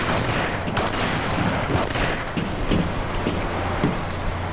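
Gunfire in The Punisher video game, a dense stream of rapid shots and bursts over a constant loud background rumble, close and without speech.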